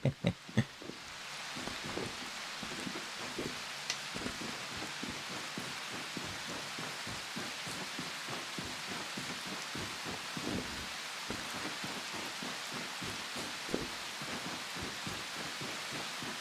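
Steady rain from a video game, its dense hiss and patter running continuously at an even level for the whole stretch, with scattered louder drops and a few sharp knocks near the start.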